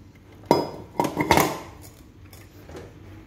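Japanese pressure cooker pots, 4.5 and 5.5 litre sizes, handled and knocked together, giving a few sharp metallic clinks and clanks close by, with quieter rattling afterward.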